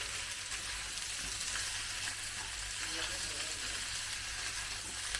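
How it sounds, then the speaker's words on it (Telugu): Boiled potatoes frying in a pan are stirred with turmeric and salt, a continuous sizzle with faint scraping and stirring movements running steadily throughout. "ఇలా టర్మరిక్ ఇంకా సాల్ట్ వేసుకున్న తర్వాత మొత్తం అన్ని దుంపలకి పట్టేటట్టు కలుపుకోవాలి."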